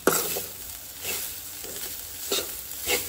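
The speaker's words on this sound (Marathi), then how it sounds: "आनी ही आतां मातशी मिक्स करून घेवया" A pan of Goan-style chole masala gravy with fresh coriander being stirred, soft scraping strokes repeating roughly every second over a faint steady sizzle, close and fairly quiet with no talking.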